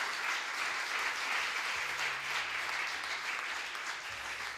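A church congregation claps at a moderate, even level throughout, a steady wash of applause with a faint low hum beneath it.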